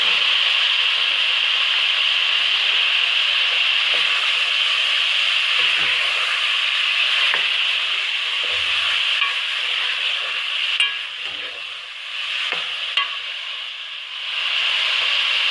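A steady, loud sizzle of chicken frying in hot oil for chicken korma continues throughout, with occasional soft clinks and stirring noises.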